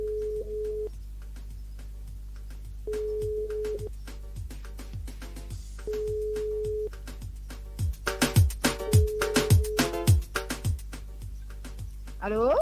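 Telephone line ringing during a live radio call to a listener, repeated regular ring tones with pauses between them over a steady low hum, then busier sound as the call connects.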